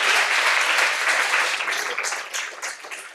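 A lecture audience at a superstring theory talk breaks into steady applause, a dense wash of many hands clapping close by that thins into scattered individual claps as it fades.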